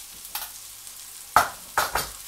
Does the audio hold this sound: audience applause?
no